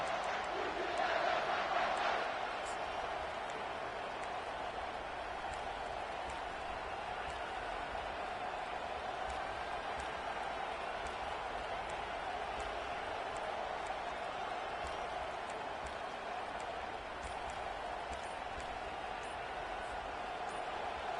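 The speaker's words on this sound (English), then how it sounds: "Here comes this home crowd as the defense tries to get off the field on 3rd down." Home crowd in a video game football match roars steadily throughout on a third down, a dense, continuous wall of cheering with a faint voice over it near the start.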